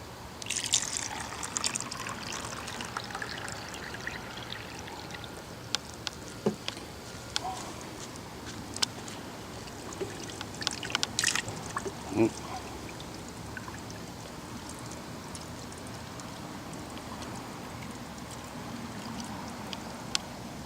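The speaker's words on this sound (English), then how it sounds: "let's put some more water in there" Water pours and trickles steadily into a portable air conditioner for a long stretch, with small splashes and clinks, under low background noise.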